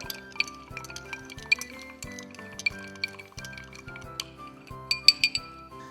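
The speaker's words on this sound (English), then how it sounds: "So give this a little stir for, say, 10 to 15 seconds." Ice cubes clink and tinkle against a glass as a Gingerbread Old Fashioned cocktail is stirred, a quick, irregular run of close, bright chimes with a few sharper knocks near the end.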